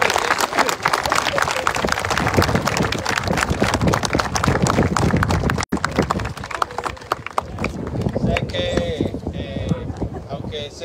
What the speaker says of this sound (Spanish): Les quiero pedir un aplauso especial para todos nuestros hermanos